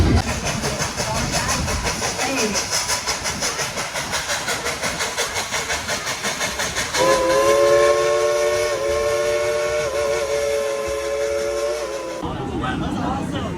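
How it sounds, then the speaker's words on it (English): An old coal-fired steam train whistle blows a long, steady, loud note over chugging, hissing engine noise, then cuts off abruptly as the rumble continues. "Our first stop was riding this old style coal train"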